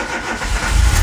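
A fuel-injected Citroen ZX turns over after a winter in storage, with a short, rumbling start that builds in loudness as the engine catches.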